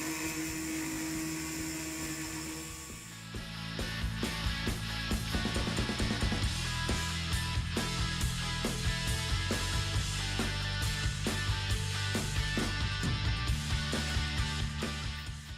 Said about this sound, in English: That tiny CNC can cut also that hard aluminium.